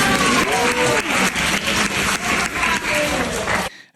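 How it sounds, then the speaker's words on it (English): An audience breaks into loud, dense applause with cheering mixed in, then it cuts off abruptly. "Imagine applauding that."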